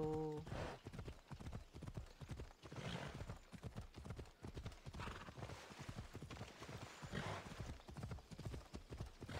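Horse hooves gallop in rapid, even clip-clop beats for the whole stretch in Assassin's Creed Odyssey, steady and close, with a brief whinny at the start and no talk.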